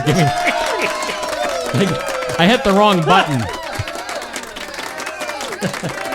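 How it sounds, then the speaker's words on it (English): At a school, students and staff applaud and cheer a longtime staff member. The clapping and whooping come in bursts under loud, excited voices talking nearby. "We're applauding Alma Varela."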